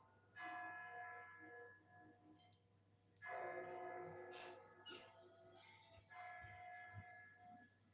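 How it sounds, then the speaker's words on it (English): Church bells ring in three long sustained swells with dense ringing overtones, fairly distant and moderately loud, separated by brief quieter gaps during a horror film scene. "Bells. The bells."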